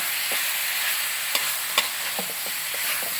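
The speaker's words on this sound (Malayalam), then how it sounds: "ഇന്ന് ഇപ്പം എടുത്ത് അത് ഈ മസാലയുടെ കൂടെ ഇട്ട് നന്നായിട്ട് ഇളക്കുവാണ്" Beef and cassava tossed with masala in a pan, a steady frying sizzle with a few soft scraping strokes of the spoon, close and moderately loud with no voices.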